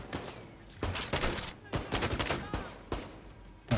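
Rapid bursts of gunfire in an online shooter video game, loud and close, with several volleys cracking out over a few seconds and a faint voice underneath.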